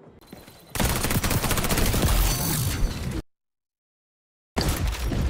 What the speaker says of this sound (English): These guys are getting absolutely shot on.